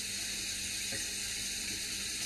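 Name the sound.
water rinsing a Polaroid negative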